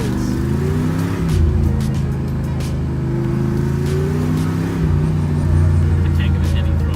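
A classic Ford Mustang engine idling with a deep, loud rumble close by and light throttle surges that rise and fall, while people talk over it.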